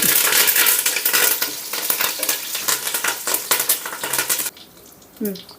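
Busy sizzling and crackling of cumin, dried red chillies and curry leaves tempering in hot oil with stirring clinks, loud and dense for most of the clip, then dropping off near the end.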